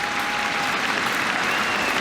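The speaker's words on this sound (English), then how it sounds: "More rousing applause from the crowd." A crowd at an England v India Test cricket match applauds warmly, a sustained wash of clapping from many spectators spread across the ground, heard at a distance with no talk.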